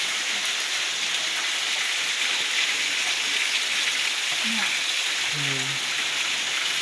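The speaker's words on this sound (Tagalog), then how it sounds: "Niluluto na tayo ng ulam" A dish fries in a home kitchen on a rainy morning, giving a steady, dense sizzling hiss that continues throughout, with faint voices murmuring now and then in the background.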